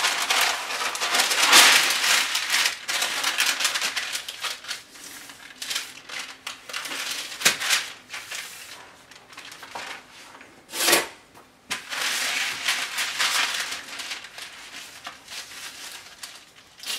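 Greaseproof paper being handled and twisted into a piping bag for piping chocolate, giving close crinkling and rustling with bursts of louder crumpling and a few sharp creases, without talk.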